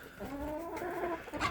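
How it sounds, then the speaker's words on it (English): A young backyard rooster among baby chickens gives a short, close clucking call that lasts only a moment. "He's definitely a rooster."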